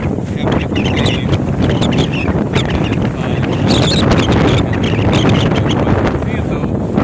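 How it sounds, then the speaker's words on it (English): Gusty wind roars steadily across open water on a windstorm day, buffeting the microphone loudly and continuously, with water sloshing and a voice speaking underneath. "This is really gusty out here."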